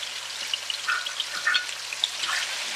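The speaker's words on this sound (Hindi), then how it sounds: "इसे डालें और अच्छी तरह फ्राई कर लें 4 से 5 मिनट के लिए" Ginger garlic paste and cumin fry in desi ghee with a steady, close sizzle and scattered crackling pops throughout, no voices over it.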